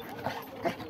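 A dog attacking and about to bite someone, giving two short yelping or whimpering bursts, fairly close, over a faint background of voices.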